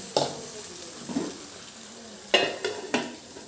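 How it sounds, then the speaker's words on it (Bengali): Chicken pieces fry under a lid in a pan for chicken kosha, a soft sizzle running throughout, broken by a few sharp metallic knocks and clatters toward the end, close and without speech. "কষানোর জন্য আমি একটা ঢাকনা দিয়ে ঢেকে মাংসটাকে কষিয়ে নেব"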